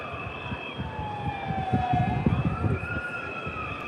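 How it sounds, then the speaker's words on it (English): A police siren wails and sweeps up and down as it approaches through a street protest in Serbia, loud and close over a bed of crowd noise and traffic rumble. "Seems the police are coming now."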